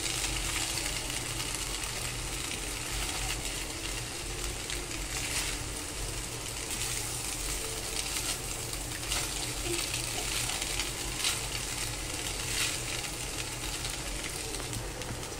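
Vegetable egg noodles stir-frying in a pan give a steady, dense sizzle with soft scraping and stirring underneath, continuous and close throughout with no voices.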